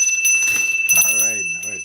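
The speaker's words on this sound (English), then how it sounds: "Can I ring the bell?" A bell rung several times, giving loud sustained ringing tones that carry on under a person's voice talking over them.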